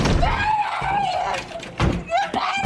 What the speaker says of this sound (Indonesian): Sarah yang sudah berpamitan pulang menggedor-gedor pintu dan ketakutan